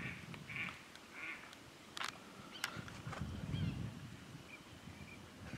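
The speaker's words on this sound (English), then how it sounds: "I can see some ducks." Ducks quack in flooded timber shallows, several scattered calls at moderate distance, some brief and some in short runs, over a quiet outdoor background with occasional rustling.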